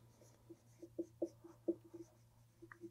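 Chalk or marker writing chemical names on a board produces soft scratchy strokes and taps in an irregular rhythm, faint and close over a low steady hum, with no talking.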